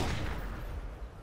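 Video game gunfire, a heavy booming shot that opens a brief, dense, low rumbling burst and then fades.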